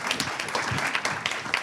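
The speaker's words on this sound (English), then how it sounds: "Round of applause for Beth" A brief burst of audience clapping greets Beth Manchester at a redistricting panel event, a short spell of many hands applauding at moderate volume.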